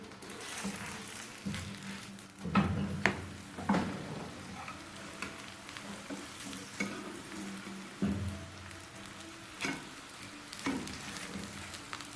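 An aloo paratha fries quietly on a hot griddle after being flipped, giving a soft, steady sizzle. Scattered clicks and light taps from the spatula come through on top, and no one speaks.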